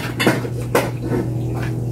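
A few metallic clanks of a cooking pot ring out close by while cooking corn, two sharper knocks followed by softer clatter over a low hum.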